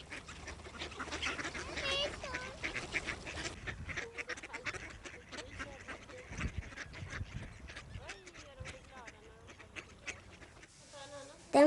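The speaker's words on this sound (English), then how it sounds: "we like to feed the ducks in the park" Ducks quacking in a park in Sweden while children feed them bread, repeated nasal calls scattered over several seconds amid outdoor background noise and nearby voices.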